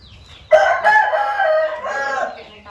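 A mountain chicken rooster crows once, loud and close, a long drawn-out call lasting about two seconds.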